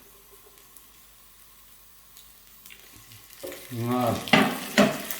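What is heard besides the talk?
potatoes frying in oil in a pan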